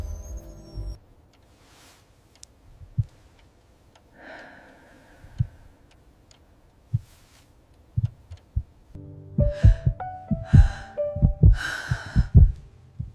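A pounding, racing heartbeat, low thumps that start sparse and then come fast and dense near the end, standing alone without talk.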